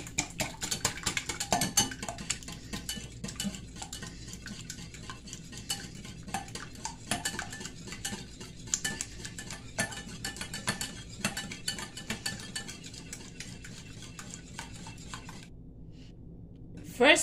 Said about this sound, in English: I mix everything together.